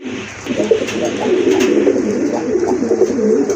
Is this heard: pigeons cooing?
yes